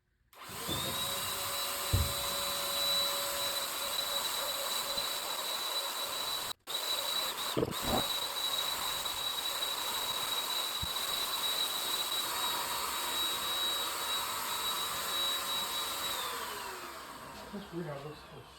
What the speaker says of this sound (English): You can see where this gun's like spraying directly.